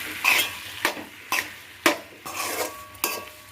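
Paneer burji masala stirred in a pan, with a faint sizzle under a series of distinct scraping strokes of the spoon against the metal, about six of them, fairly close.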